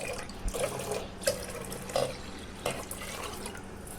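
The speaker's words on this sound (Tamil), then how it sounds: "3 டம்ளர் தண்ணி உள்ளே ஊற்றிக்கிறேன்" Three tumblers of water poured into a pan of homemade millet health-mix flour, a splashing stream with a few louder gurgling pulses, close by and otherwise quiet.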